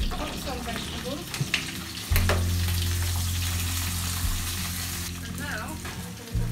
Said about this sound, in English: So we have our herbs in the oil, and we're going to cook some vegetables.